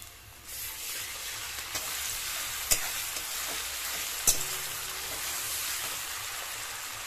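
Garlic paste hits browned onions in a pan for a Bengali prawn malai curry and sizzles steadily up close, with a couple of sharp spoon taps against the pan partway through.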